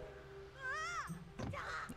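Cartoonish bird caws from the Wind Waker HD video game, a rising-and-falling warbling call followed by a couple of lower squawks, loud and close over faint game ambience.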